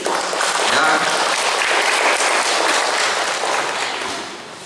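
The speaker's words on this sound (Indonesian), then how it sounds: "Tepuk tangan dulu" Enthusiastic applause from an audience at a government outreach session in South Papua, dense clapping swelling early, staying strong, then fading toward the end.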